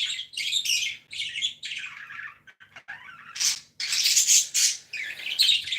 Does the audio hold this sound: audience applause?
no